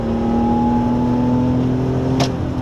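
A BMW E46 M3 pulls hard while overtaking, its engine holding a steady, loud drone with firm harmonic tones, then a brief whoosh near the end of the stretch.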